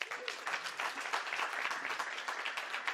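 Dense applause from a graduation ceremony audience, a continuous even wash of many people clapping with no voices on top.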